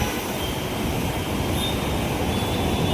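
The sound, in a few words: metro train running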